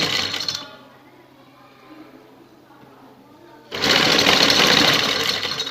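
Sewing machine stitching lace onto a V-shaped neckline: a loud, steady whirring run at the start, a quieter stretch, then a second strong continuous burst that carries to the end.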